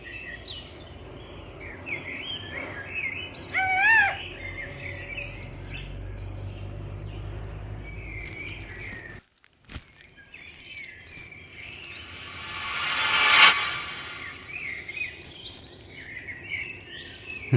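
Birds chirp outdoors in short bright bursts, moderately near, against a steady bed of insect trilling, with a brief dropout midway and a louder swell of chirping later.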